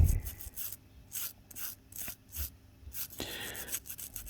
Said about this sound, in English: we'll just give that a little bit of a scrape off with the brass brush